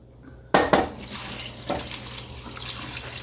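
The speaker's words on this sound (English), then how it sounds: "So now we're going to put in the water." Water from a tap splashes into a pot of pinto beans and salt pork, starting abruptly with a loud gush and then running steadily with clanks of the pot.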